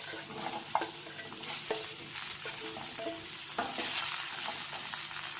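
Chopped brinjal and lady's finger sautéing in a pan for a curry, a steady close sizzle with repeated spoon-stirring scrapes and light clinks throughout, no voices.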